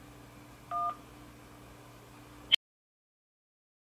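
A single keypad tone sounds once on a call to the LG U+ mobile customer service line, a short steady dual-pitch beep over a low hum, followed by a click and then silence.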